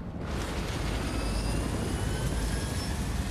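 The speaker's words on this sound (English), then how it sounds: "Was that our helicopter about to land on us?" Loud, steady rotor-and-engine roar of a helicopter descending close overhead in the video game Fortnite, a dense broadband wash that swells in within the first moment and holds without a break, with no talk over it.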